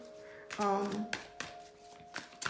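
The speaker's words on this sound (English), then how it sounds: "And then I'm going to shuffle in front, so you guys can see that." A tarot card deck is shuffled close up in a few quick riffling bursts and taps, quiet and intermittent, with faint background hum.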